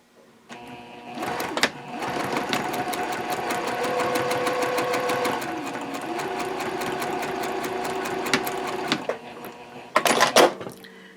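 Sewing machine stitching fabric 1/8 inch from the edge at a stitch length of 3.0, backstitching at each end: a fast steady mechanical whir with rapid rhythmic ticking, short bursts at start and end, no talk.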